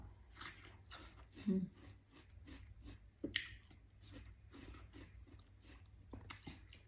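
Someone eats rice with boiled egg and watermelon, close up, with repeated moist chewing and soft bites, a couple of sharper crunchy accents, over a faint steady hum.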